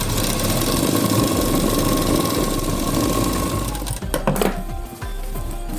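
Sewing machine stitching a blouse sleeve, a steady close mechanical whir and rapid needle chatter that runs for several seconds, then stops with a few clicks and handling sounds.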